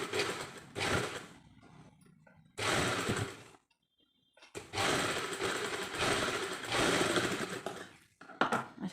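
A sewing machine stitches a potli button in several bursts of steady mechanical whirring, close and loud, separated by short pauses.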